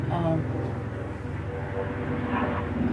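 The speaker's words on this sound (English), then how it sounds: "now we got what? An airplane?" An airplane passes overhead as a broad, steady, low rumble that holds for the whole stretch, heard from a distance without any nearby voices.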